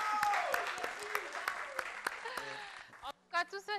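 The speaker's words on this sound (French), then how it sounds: "On l'applaudit, on l'encourage quand même." Applause from a studio audience on a Congolese game show, a broadband burst of clapping with voices over it that cuts off near the end, followed by a short spoken phrase.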